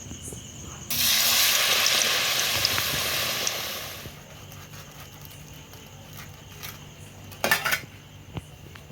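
A sandwich dropped into hot oil bursts into a loud, dense sizzle that fades over a few seconds, followed by quieter kitchen clatter and a couple of brief metallic knocks of utensils.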